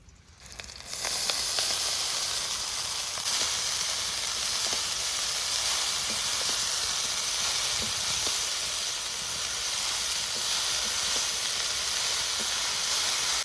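Chickpea greens tossed into hot oil already frying slit green chillies and ginger, starting with a sudden loud sizzle that settles into a steady, dense hiss for the rest of the clip, with no talking.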